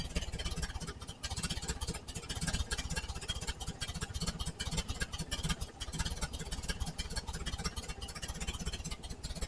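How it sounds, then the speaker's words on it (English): The engine of a 1968 VW Type 3 with its original fuel injection runs at a very low idle, making a close, steady rapid pulsing chug that holds even throughout, with no talking. "Starts with super low idle."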